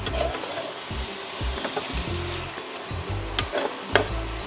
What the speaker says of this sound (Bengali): চিনিটা দিয়ে ভালো করে কিন্তু নাড়িয়ে দিতে হবে, যেন সব সবজির মধ্যেই যেন মিষ্টিটা মিশে যায়